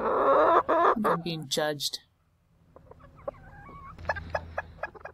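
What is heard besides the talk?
backyard chickens clucking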